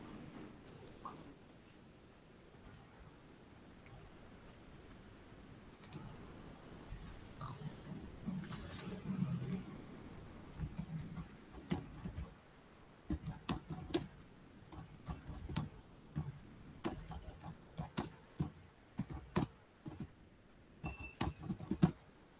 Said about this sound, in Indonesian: Enggak, saya ngetik komentar itu.